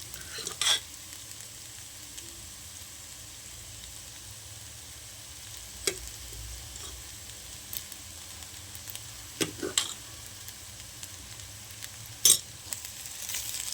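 Rice stirred and fried in a pan for fried rice, a steady low sizzle running throughout with occasional sharp scrapes and clinks of the spoon against the pan, no voices.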